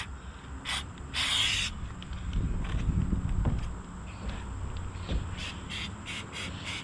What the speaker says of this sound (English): I'm spraying the back end of the roof hatch here